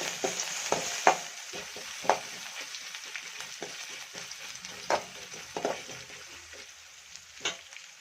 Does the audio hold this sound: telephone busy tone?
no